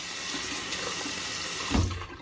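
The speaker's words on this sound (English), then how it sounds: "Sorry about the water, guys." A tap runs with a steady broadband rush of water, close and continuous, shifting to a lower gurgling splash near the end as the flow changes.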